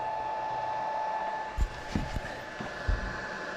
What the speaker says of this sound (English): There's a fan running.